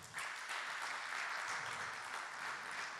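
A conference audience at the Forum Nordicum para sport event bursts into applause, a dense, even wash of many hands clapping that rises quickly and holds steady at moderate volume.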